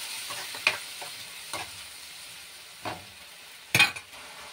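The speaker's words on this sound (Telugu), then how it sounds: "టమాటా కూడా కొద్దిసేపు ఫ్రై అవ్వాలి" Tomato puree frying in a pan for an aloo green peas curry, a soft low sizzle broken by a few sharp scrapes and clinks of a stirring spoon, spaced irregularly with quiet gaps between.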